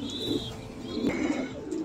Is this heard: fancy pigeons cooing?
yes